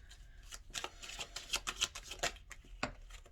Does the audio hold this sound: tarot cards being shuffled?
yes